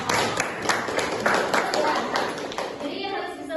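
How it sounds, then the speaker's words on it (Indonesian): Classroom applause for all student groups during an Arabic lesson, a steady spatter of many hands clapping together at close range, tapering off toward the end. "tepuk tangan untuk semua kelompok"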